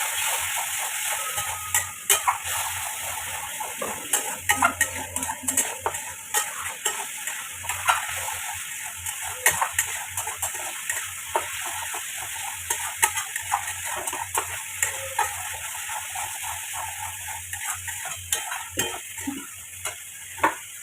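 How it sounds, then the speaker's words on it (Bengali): Curry masala being stir-fried in a pan with a little water: a steady, soft sizzle runs throughout, broken by frequent clicks and scrapes of a spoon against the pan as it is stirred, with no voices. "বাটি দেওয়া জল দিয়ে আরেকটু কষিয়ে নেবো"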